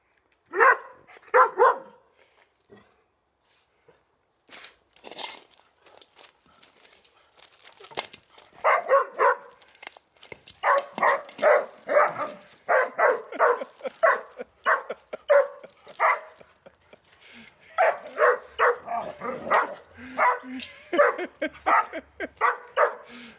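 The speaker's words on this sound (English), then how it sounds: "And now a little bit of dogs behaving stupidly, because I do like my dogs." Pet dogs barking in bursts, with yips and whimpers in between, close and fairly loud, in irregular clusters separated by short quiet gaps.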